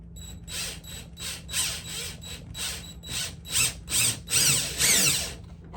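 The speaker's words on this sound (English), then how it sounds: "I'm going to just drill into the space" Power drill boring into a wall to hang a collectible display, whining in repeated bursts roughly every half second that grow louder and rougher toward the end, close by with no voices.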